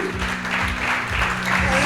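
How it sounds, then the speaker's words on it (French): A press conference audience for a dirt rally gives a rally driver a round of applause, close and fairly loud sustained clapping with a steady hum in the background. "On peut applaudir Jean-Marc Falco."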